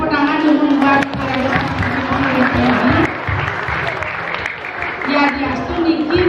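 Audience applause at a village event in Bali where a drama gong performer judges a contest; sustained clapping runs under an amplified voice speaking almost throughout.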